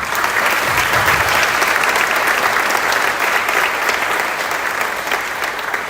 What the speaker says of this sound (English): So an applause for choir